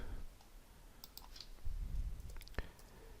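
Quiet clicking of keys on a computer keyboard while entering an Excel formula, a short burst of soft taps at close range with a faint click near the end.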